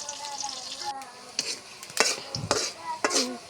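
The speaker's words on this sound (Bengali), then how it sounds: "পেঁয়াজ একটু লাল করে ভেজে নিলাম" Onions frying in a pan until reddish, with a continuous sizzle broken by several scraping stirs and light clatters of a utensil against the metal, close and fairly loud.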